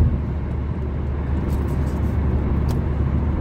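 Car interior on the drive into downtown Columbus, a steady low road rumble and engine hum filling the cabin with no one talking.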